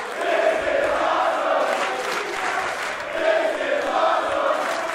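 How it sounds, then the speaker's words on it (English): A pro wrestling arena crowd chants and cheers during a Takeshita vs Speedball Mike Bailey match, a loud, steady roar with rhythmic chanting that swells twice, with no commentary on top. "Many standing, chanting, cheering the efforts of Takeshita and Speedball."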